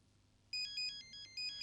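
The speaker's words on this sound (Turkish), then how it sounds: "Senin telefonun çalıyor." A phone ringtone plays a bright, repeating electronic melody in short bursts. It starts after a moment of quiet and stays loud and clear, with no talking.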